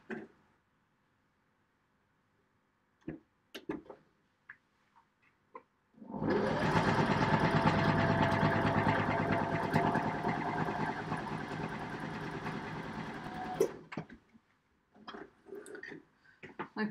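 A sewing machine runs in one steady burst of stitching through fabric for about eight seconds, fairly loud and close. Short quiet handling clicks come before and after it.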